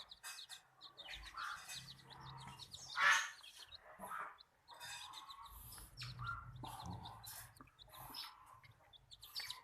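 Goslings kept together with young chicks, peeping and chirping in a mixed group; thin high calls come in scattered bursts at moderate distance over a soft low rumble, with one louder cheep standing out midway.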